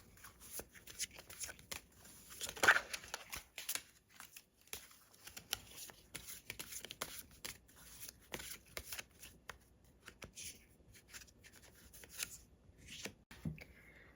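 Tarot cards shuffled and drawn by hand, soft papery riffles and slides that repeat in bursts across the clip, close and fairly quiet, with a few sharper card snaps.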